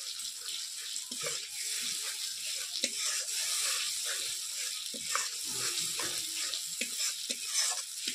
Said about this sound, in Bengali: কাজু পোস্ত দিয়ে মশলাটা আবার ভেজে নিলাম।